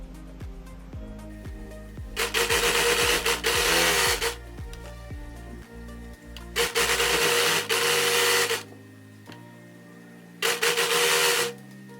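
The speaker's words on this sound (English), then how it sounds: "So I'm now going to sew them all with a 1 centimetre seam allowance" A sewing machine stitches side and shoulder seams of a one-shoulder maxi dress at a 1 cm seam allowance, running in three separate loud bursts with pauses between, over soft background music.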